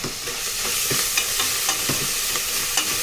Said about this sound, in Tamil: இப்போ இந்த மட்டனையும் போட்டு நல்லா கிளறிக்கணும்